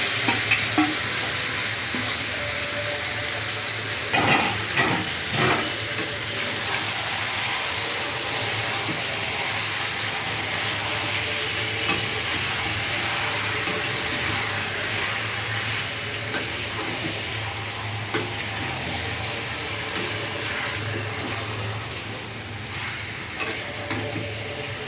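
Spiced, marinated chicken fries in a pan over browned onions while being stirred, giving a steady close sizzle with repeated scraping strokes throughout and no talking.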